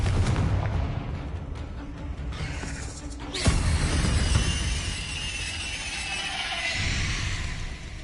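Confringo blast spell in Hogwarts Legacy erupting with a sharp, loud explosive burst partway through, followed by a rumbling, crackling tail over dense game ambience and effects.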